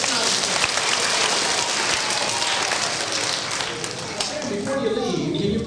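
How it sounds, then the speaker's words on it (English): A school-show audience in 1982 gives a volunteer a round of applause: dense, continuous clapping from a large crowd that holds steady, thins slightly near the end, then swells again, with no talk. "Let's give Sam a nice round of applause."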